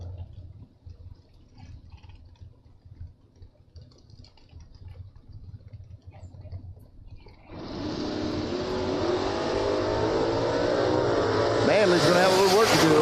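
A Chevy Camaro drag car launches at a bracket drag race: quiet track ambience with faint voices, then a sudden loud engine roar that builds and climbs in pitch as it pulls away.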